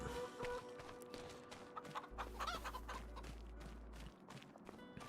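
Farm chickens cluck softly and intermittently at close range, a quiet flock in a barnyard with a low steady hum underneath.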